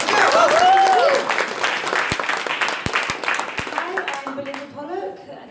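Audience at a Startup Weekend Fintech opening ceremony clapping and cheering, with a whoop early on, then the applause tapers as voices continue over it.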